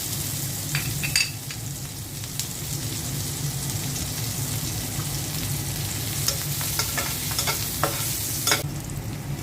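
Dried fish (shutki) fries with chopped garlic in a pan, giving a steady close crackling sizzle broken by scraping stirs and a few sharper clacks, with no talking.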